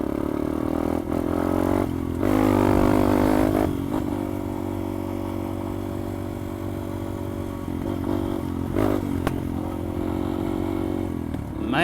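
Yamaha XT250 motorcycle engine and exhaust, a steady close idle rumble with a few brief revs and clatter, no talk over it.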